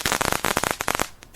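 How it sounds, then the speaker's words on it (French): A poppy petal laid over one hand and slapped hard with the other bursts in a quick run of sharp firecracker-like pops and cracks, close and loud, fading to quiet at the end. "Tu poses un pétale de coquelicot par-dessus et tu frappes avec l'autre main."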